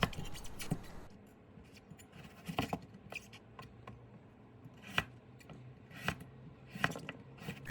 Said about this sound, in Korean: 무 반개를 손가락 굵기로 잘라주세요